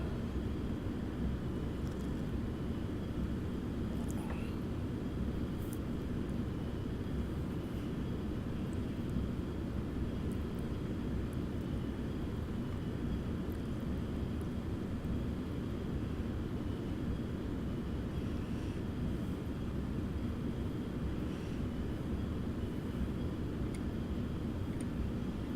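An airplane engine drones steadily as the plane approaches landing in a flight simulator game, a continuous loud broadband roar with no letup.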